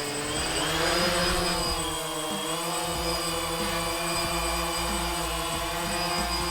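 A DJI Phantom drone flies nearby with a steady high-pitched motor and propeller whine, constant and fairly loud, with no talking.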